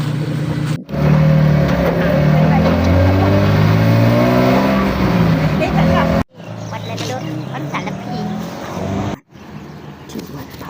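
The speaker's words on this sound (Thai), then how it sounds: "รถมาส่งนะคะนี่ รถจอดอยู่ที่วัด" A temple's free shuttle car pulls up to drop off passengers at Wat Luang Pho Loi, its engine running loudly and steadily close by, with people talking over it and brief cutoffs in the sound.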